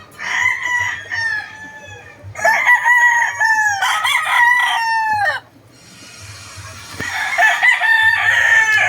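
Several WPC banded gamefowl roosters crow in repeated, overlapping calls, loud and close, with clucking and farmyard bustle between the crows and a brief lull before more crowing.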